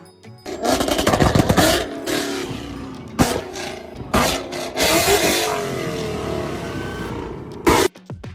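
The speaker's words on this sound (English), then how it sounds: "it starts and ends with a Mustang rev sound, giving you that sporty, premium feel every single time" Mustang engine rev sound played through a GoBoult Mustang Torq speaker: a loud, roaring V8-style rev that rises and falls in several surges, with sharp blips, ending in a final short rev burst before cutting off.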